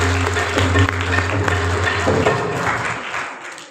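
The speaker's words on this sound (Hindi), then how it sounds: "भाई परवेज है और भाई हलीम और मास्टर सईद, तो आए उनकी खिदमत के लिए जोरदार तालियां बजाकर" Sustained applause from a church congregation at a Christmas service, steady and fairly loud, with a low hum running underneath before it tapers off near the end.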